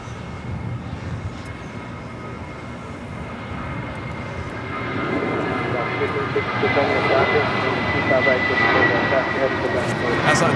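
An airliner departs runway 25 right at Los Angeles International Airport, its jet roar building steadily from a distant rumble to a louder, broad wash, with a voice talking over it.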